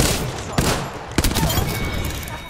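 Rapid automatic gunfire from the shooter game Apex Legends, loud bursts with a couple of sharp shots standing out, continuous and close.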